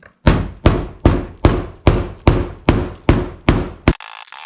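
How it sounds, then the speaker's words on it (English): Nine sharp, evenly spaced hammer blows on a wood block against a PT Cruiser fuel pump retaining ring, loud and close, each strike ringing briefly before the next, followed by a short rustle. "a regular hammer will work too, but if you got a rubber mallet"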